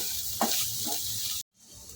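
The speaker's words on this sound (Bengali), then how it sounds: "সেটা আমি এখনও দিয়ে দিলাম দিয়ে আবার একটুখানি নেড়ে চেড়ে নেব" Dry-roasted ground spices are stirred in a pan for soybean pulao, a soft, close sizzle with brief scraping strokes, then a sudden cut and a quieter hiss.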